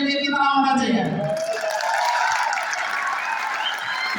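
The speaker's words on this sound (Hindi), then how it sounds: "उसके बाद हमारे एमडी सर के लिए भी जोरदार तालियां होनी चाहिए" Loud, dense applause from a corporate event audience as the MD is honoured, sustained throughout with some cheering and voices at the start.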